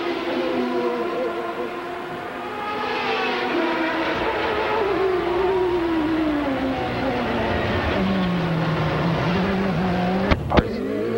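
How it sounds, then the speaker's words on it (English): CART Indy race cars at the 1995 Vancouver street race roar past at high revs, engine pitch sweeping down and up through gear changes, with a sharp knock near the end. "a drag race with Scott Pruitt down the outside"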